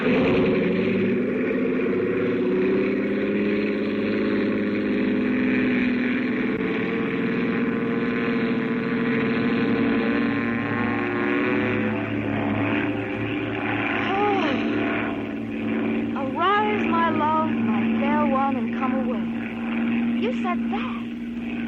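Vintage radio drama sound effect of an airplane engine during takeoff: a steady droning propeller hum that swells and holds, with voices speaking over the engine later on.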